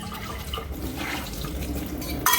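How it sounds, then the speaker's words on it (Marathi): Water runs and splashes while a protein shaker is rinsed, a steady rushing flow that gets a brief louder burst at the end. "म्हणून ते जे आहे का आपण विसळून किंवा धुवून तरी टाकलंच पाहिजे."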